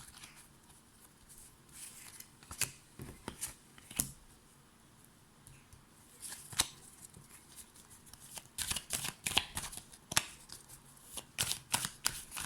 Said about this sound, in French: Voilà, je tire plusieurs cartes, comme ça.